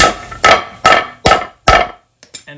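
A hammer taps a new seal into a Pentair Whisperflo pool pump: five sharp, evenly spaced metallic strikes ring out close and loud, followed by a couple of faint light clicks.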